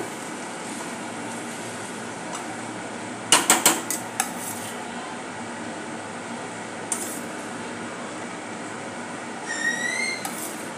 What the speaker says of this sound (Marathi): असे थोडे थोडा राईस घालूया, मिक्स करून घेऊ